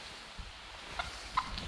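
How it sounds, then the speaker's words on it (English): A wild turkey outdoors gives brief gobbling calls, a couple of short faint bursts over quiet background noise with no voices. "It's a turkey."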